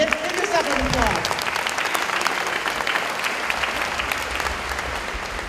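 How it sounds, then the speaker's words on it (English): Teachers at a high school district opening-day event applaud in a sustained, dense burst, with a voice briefly audible near the start over the clapping. "Come on, give yourself an applause."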